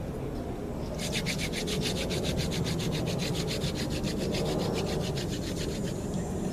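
A wooden hand drill is worked back and forth to bore through wood for an arrow straightener, giving a steady rhythmic rasping and rubbing that starts after a second and runs on close and continuous.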